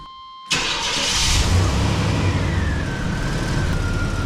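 A 1990s GMC S-15 Jimmy engine cranks briefly and catches, then settles into a loud, steady idle close by.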